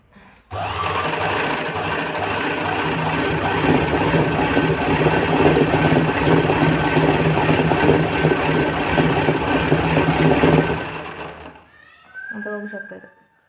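A sewing machine runs steadily for about ten seconds while stitching a picot edge on a saree, a loud continuous whirring hum with rhythmic needle clatter, stopping abruptly before a voice speaks briefly.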